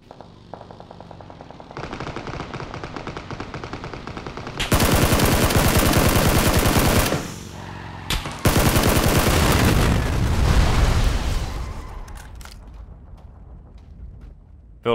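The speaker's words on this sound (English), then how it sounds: "I feel like there were multiple people shooting." Gunfire from several shooters in the PUBG video game, with rapid automatic bursts that start moderately and build into long, loud, continuous volleys before tapering off.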